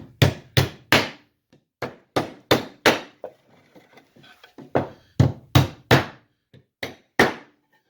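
Sharp hammer strikes drive nails into a wooden birdhouse roof built from fir softwood, coming in quick bursts of two to four blows with short pauses between, close and loud with no talking.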